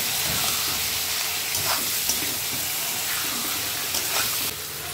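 Turmeric, chilli powder, cumin and coriander sautéing in a pan for a hilsa fish curry, a dense continuous sizzle and hiss up close with faint scraping of stirring.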